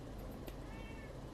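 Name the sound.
cat meowing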